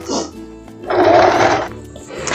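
A sewing machine stitching a wide basting seam to attach lace onto a skirt, a short close mechanical whirring run that starts, holds for about a second and stops, with brief other noises around it.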